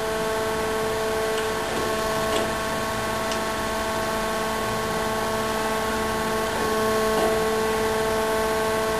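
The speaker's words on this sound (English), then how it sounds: "I press the green button, the wheel head moves in, the work head starts, and we feed in a little bit each time" GER universal cylindrical grinder running an automatic cycle with pick feed, giving a steady loud machine hum with sustained tonal whine and occasional faint ticks as the wheel head feeds in.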